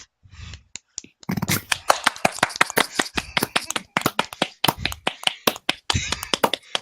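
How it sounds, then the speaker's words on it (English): A few people clap sarcastically at the start of an online Dungeons and Dragons session, sharp hand claps close to the mic in an uneven burst, with a quick snappy rhythm and scattered separate claps. "I hear your sarcastic clap in there"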